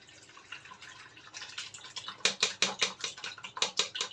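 Blended beetroot liquid is strained into a plate, giving rapid close drips and splashes that build into a rhythmic run of wet patters and light clinks.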